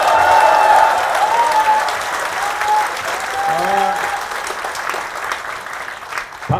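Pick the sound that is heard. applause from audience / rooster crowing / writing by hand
applause from audience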